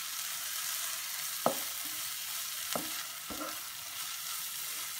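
Turmeric powder being stirred into a hot pan for Malabar madakku pathiri filling, with three sharp scraping strokes of a spoon against the pan over a steady low sizzle, no talking.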